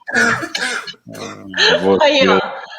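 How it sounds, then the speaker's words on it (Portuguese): A couple of harsh, breathy coughs up close, followed by a voice that sounds strained and broken, as if still catching breath. "Começa a tossir."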